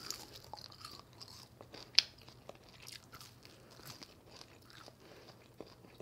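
Quiet, close crunching bites and chewing of air-fryer-reheated crispy fried chicken, with one sharp crisp crack standing out among softer scattered crunches.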